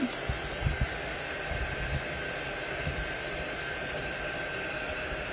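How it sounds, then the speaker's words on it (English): A heat tool blows air to dry a decoupaged pumpkin, a steady broadband whooshing hiss that holds evenly throughout with a few faint low bumps near the start and no voices. "I think the fan is doing more than the heat tool."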